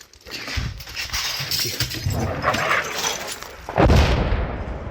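Loud, rumbling blasts and cracking bangs roll through a chaotic outdoor scene during a police evacuation of civilians, with a heavy boom near the end.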